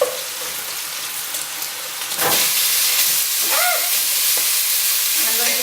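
Organic beef browns in a hot pan with a loud, steady sizzle that jumps up sharply about two seconds in and then holds close and continuous, with a few small clinks on top.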